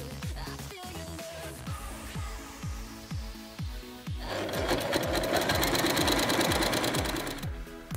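A sewing machine runs while quilting fabric, its needle thumping in a steady fast rhythm that picks up speed and grows louder and busier partway through, heard alone and close.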